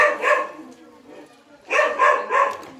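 A pet dog barks at a cobra trying to enter a house, giving short, close, sharp barks in two bursts separated by a quieter pause, with voices nearby.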